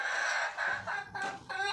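Several chickens cluck inside a coop in a few short, close bursts of clucking and crowing-like calls, with no talking.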